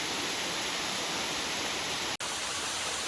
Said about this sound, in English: There's a little waterfall coming down the hill there.